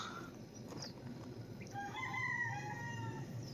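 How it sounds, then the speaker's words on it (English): Chickens near a hillside Airbnb in Arizona: one rooster crows distantly, with soft clucking, over quiet outdoor background noise. "Obviously there's some chickens down there."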